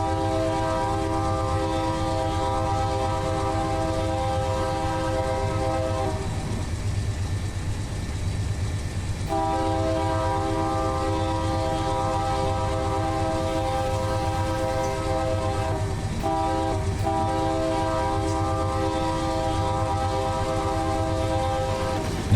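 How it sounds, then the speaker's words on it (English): A locomotive bell in the Run 8 Train Simulator game rings in a steady repeating pattern over a continuous engine drone, pausing briefly midway, with no talking heard. "Kill the bell. Man, that bell is just so quiet."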